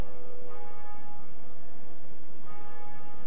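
The Bell of Awakening rings in Dark Souls, a single bright metallic bell tone with long shimmering overtones, followed by a second strike that sounds at about the midpoint of the decay.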